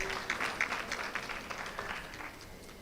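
Brief, moderate applause from attendees at a judiciary retreat marking a judge's birthday, a short patter of clapping with a few distinct claps that quickly fades.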